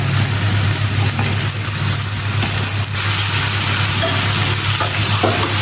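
Okra drops into hot oil with frying onion and green chilies, producing a loud, steady sizzle close up, with a constant low hum underneath.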